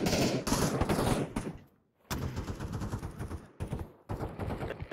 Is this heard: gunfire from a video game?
yes